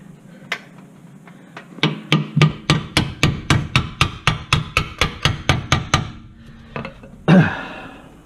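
Steel hammer blows strike a car suspension strut during a strut replacement, a steady run of about eighteen loud, evenly spaced metallic bangs, close up, followed by a pause and one final heavier hit.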